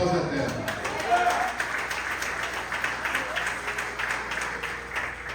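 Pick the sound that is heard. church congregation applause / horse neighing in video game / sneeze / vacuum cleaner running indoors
church congregation applause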